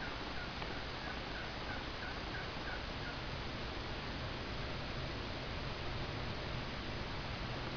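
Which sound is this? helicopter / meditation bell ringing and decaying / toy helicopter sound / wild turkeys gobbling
wild turkeys gobbling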